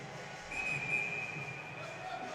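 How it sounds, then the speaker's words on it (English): A referee's whistle sounds at a college ice hockey game, one sustained shrill blast that rises over a murmuring arena crowd and commentary, then a fainter, shorter tone follows. "As the whistle's blown"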